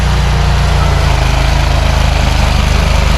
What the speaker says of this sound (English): the stump grinder is still working on this huge stump